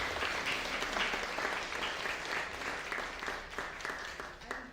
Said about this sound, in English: And you can also applaud her